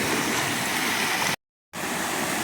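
Storm runoff pours down an old stream bed as a steady, broadband rushing and gurgling flow heard up close, broken by one short gap of silence partway through.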